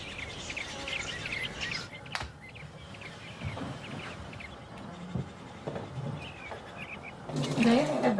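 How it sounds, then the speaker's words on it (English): Robins sing outdoors in spring just outside Yellowstone, with scattered chirping phrases at moderate distance under a narrator's voice and faint background rustling. "The robins are singing out there, so the bears are awake."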